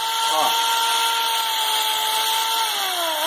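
A power drill whines steadily as its bit bores into a wooden chair frame during chair caning work, a loud close sustained tone that shifts pitch near the end, with someone talking.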